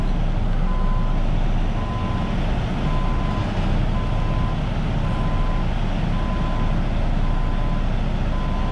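A truck's reversing alarm beeps at an even rhythm, about once a second, over a loud steady diesel engine rumble as it backs up to a tank outdoors.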